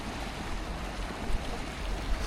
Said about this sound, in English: Look at the river here, just raging, running so fast